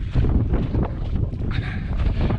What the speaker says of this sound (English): It's pretty windy, which it usually is up here